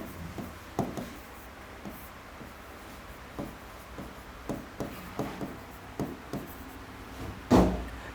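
Chalk or marker tapping and scraping on a board during a polity class, with scattered short strokes and knocks at an irregular pace, quiet in a still room.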